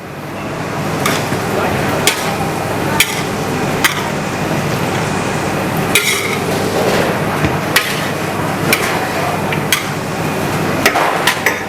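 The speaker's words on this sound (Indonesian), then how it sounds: "Aduk dulu sebentar." Vegetables get stirred in a cooking pan, a spoon or spatula clanking sharply against the metal in irregular knocks over a constant busy background hiss.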